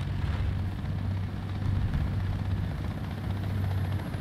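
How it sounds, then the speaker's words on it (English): A helicopter in the War Thunder combat video game, its rotor thumping in a steady low drone that stays loud and close throughout, with no talking. "Also, flipping helicopter."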